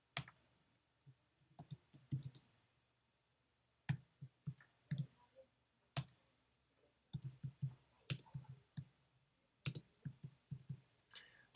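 Fingers key information into a computer keyboard in short bursts of crisp, close clicks separated by brief pauses, in a quiet room with no voices.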